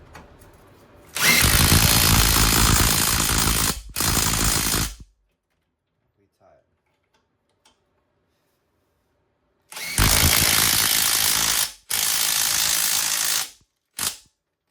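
Short bursts of loud mechanical whirring from a 17 spanner at work on a 2017 Suzuki Swift's coil spring suspension, two long runs followed by quieter gaps and a final brief burst.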